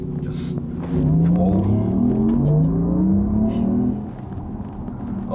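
Synthetic sports-mode drive sound of a 2024 Porsche Macan 4 Electric, a steady whirring hum whose tone sweeps up and down as the car accelerates, heard alone without talk.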